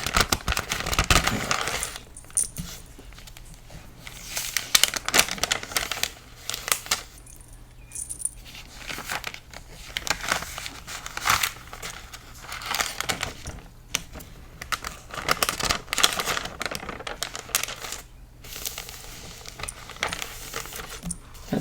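Thin, Bible-style book paper pages being handled and flipped, giving a run of close, crisp rustles and soft crinkles that come in irregular bursts with short quiet gaps, alone with no talk.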